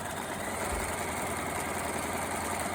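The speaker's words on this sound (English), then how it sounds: "start there, and sew that one in place as well" A domestic sewing machine stitches a pocket in place, giving a steady, continuous motor whir close by with no pauses and no talking.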